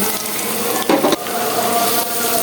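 Chopped onions go into hot oil already used for frying onion crisps for a spicy mutton dish, giving a steady sizzling hiss with a brief louder burst of crackle as they land, then continuous frying.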